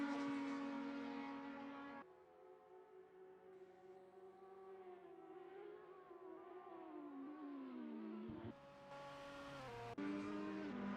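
Race cars roar past at Fuji during a GT Asia event, sustained high engine whine with pitch sweeps as cars pass and downshift, abrupt cuts between shots, fairly distant and steady with no speech.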